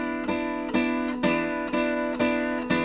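An acoustic blues guitar phrase played without slide, five or six plucked notes at an even pace, ringing bright and close with no talk over them.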